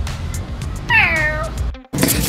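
A cat meows once in a drawn-out, clear, fairly close cry over a steady low background rumble, then starts another meow just after a brief drop to near silence.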